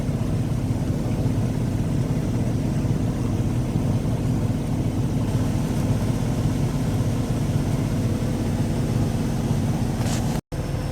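A blower fan runs steadily and close by, giving a continuous loud whirring drone over a low, engine-like rumble with no voices, holding constant until a brief cut right at the end.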